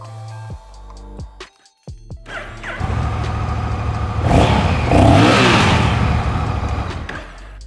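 A Honda Rebel 1100 motorcycle cranks and fires up, settles into a deep idle, then revs hard several times with a loud, throaty roar close by.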